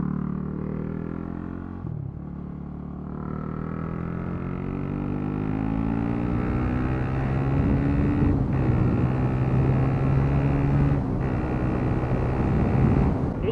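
Motorcycle with an exhaust baffle fitted pulls away and builds speed, engine note steadily rising in pitch over about ten seconds, close and constant, with wind rush over the microphone.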